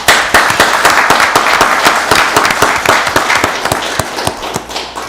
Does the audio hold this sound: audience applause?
yes